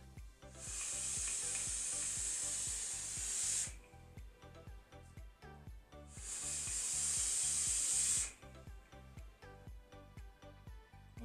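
A vape atomizer coil fires twice with e-liquid, each burst a loud, crackling sizzle lasting about three seconds, over a steady background pulse.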